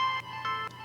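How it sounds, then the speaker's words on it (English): A bright synth lead from an electronic remix that sounds like a cell phone ringtone, playing short tonal melodic notes in quick succession, clear and alone. "then you have the top synth that I like to add. It's like a cell phone sound"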